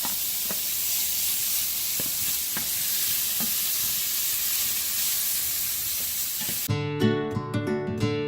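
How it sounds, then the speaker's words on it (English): Bacon sizzles steadily in a hot skillet, a dense continuous crackle with occasional louder pops, for bacon fried cabbage; near the end a short burst of bright tonal music cuts in over the frying. "now we're going to put our bacon in a hot skillet and cook this bacon up"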